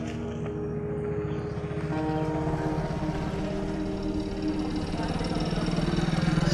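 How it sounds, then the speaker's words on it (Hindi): A common budget motorbike idling in a village, a steady low mechanical drone that holds evenly throughout and grows slightly rougher toward the end. "सेम ही आवाज़ इतनी बार रिपीट होती है गांव में बैठ के, क्योंकि सब पे सेम बाइक है"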